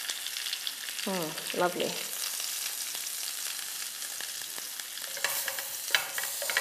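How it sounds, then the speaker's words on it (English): Lamb chops splutter and sizzle in a hot baking pan, a continuous crackling hiss with sharp pops. A voice briefly speaks over the frying near the start. "Be careful because it really splutters."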